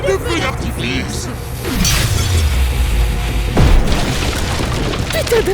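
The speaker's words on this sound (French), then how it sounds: "Aujourd'hui, on va essayer de drôles de feux d'artifice." Booming bursts of cartoonish fireworks in a horror game about a sinister clown, two deep descending blasts with crackling trails, layered under game voices and music.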